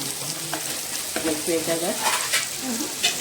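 Mutton keema fries with salt and chili powder, a steady close sizzle broken by scraping stirs, with a faint voice briefly in the background.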